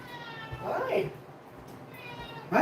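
A kitten gives two short meows, the first clear and drawn out, the second clipped at the very end, with faint indoor background hum and a voice nearby.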